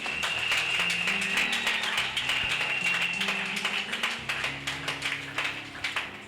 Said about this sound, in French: Est-ce qu'on peut applaudir pour cela?